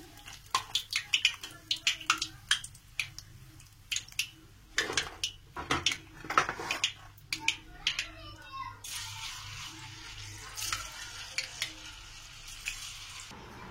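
Palm fruit fritters frying in oil give a steady low sizzle through most of the stretch, with scattered sharp clicks and clatters from stirring or utensils on top. It grows denser and hissier toward the end, with no talking.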